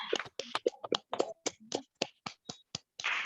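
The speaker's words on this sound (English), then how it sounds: "Let's give a good round of applause to all the role takers" Applause from a small audience at a Toastmasters club meeting in Bangalore, a dense run of sharp, close hand claps with uneven rhythm over about three seconds, alone without talk.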